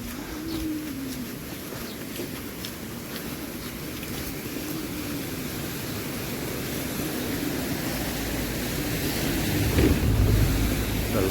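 A river's water rushes steadily near Kalpa in Himachal Pradesh, a continuous broad wash mixed with wind buffeting the microphone that grows a little louder toward the end, with faint birds in the background.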